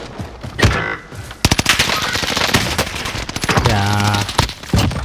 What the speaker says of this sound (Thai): มีคนยิงมาจากฝั่งโน้นนะเมื่อกี้